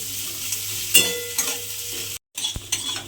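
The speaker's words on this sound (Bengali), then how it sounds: "তেলের মধ্যে পেঁয়াজটা দিয়ে এবার আমি পেঁয়াজটাকে একটু লাল করে ভেজে নেব" Finely chopped onion fries in hot oil, a continuous close sizzle broken by a few clinks and scrapes of a utensil against the pan and a brief silent gap near the end.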